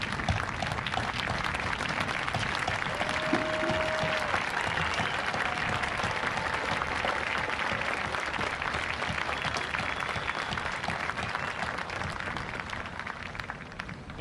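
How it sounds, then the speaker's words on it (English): A standing audience at a 2020 high school graduation ceremony gives sustained applause. Steady, dense clapping holds at an even level for about fourteen seconds and tapers only slightly at the close. "Would you please stand and let's give them a round of applause."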